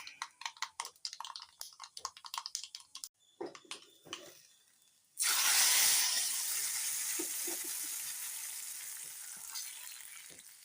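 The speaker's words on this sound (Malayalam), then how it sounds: "കടുക് താളിച്ച് കൊട്ടി" Mustard seeds burst into a loud, close sizzle and crackle in hot oil for a tamarind curry tempering. Light clinks and stirring come first, then the hiss dominates and slowly fades.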